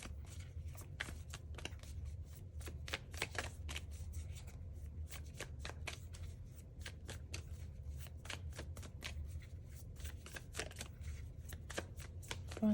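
Tarot cards are shuffled continuously and close by, a steady stream of soft riffling flicks and slaps over a low room hum for the whole stretch.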